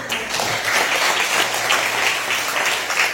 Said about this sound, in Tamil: உங்கள் அனைவருடைய பலத்த கைத்தட்டலோடு வருக வருக என வரவேற்கிறேன்